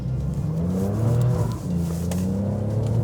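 A 2017 Alfa Romeo Giulia Quadrifoglio engine pulls hard under acceleration, a loud, steady rising growl with shifting revs heard up close and alone, with no talk over it.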